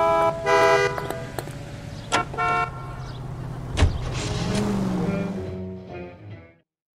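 Car engine hum in the L.A. Noire video game world, with honking horns, a short crash-like thump and a rising engine note, all under intermittent in-game voice lines and ambient city music.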